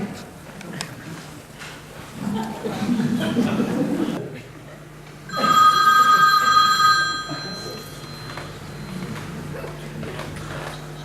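Telephone bell rings loudly for about two seconds on a lively stage at a parish evening show, cut off when answered, with people talking before and after.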